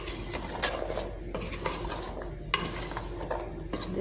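Carrot and capsicum are sautéed in a pan with repeated stirring, spatula scrapes and clatters breaking through a continuous close sizzle, several sharp knocks against the pan, no voices.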